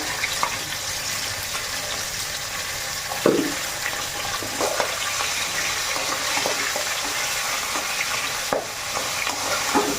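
Onion, cumin and coriander powder, ginger and garlic fry in hot oil, a loud continuous sizzle with occasional stirring scrapes and a sharp clatter near the middle, no one speaking.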